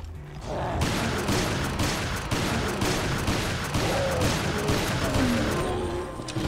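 Shotgun blasts in a Resident Evil co-op mode, a steady series of heavy booming shots at roughly half-second intervals over a dense, noisy game backdrop.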